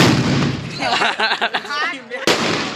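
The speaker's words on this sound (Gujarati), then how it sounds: "એ રોકેટ ની શરૂઆત કરી દીધી છે તમે જોઈ શકો છો" A sharp whooshing burst with crackling and popping as a Diwali firework rocket launches nearby, followed by a second abrupt bang at the end.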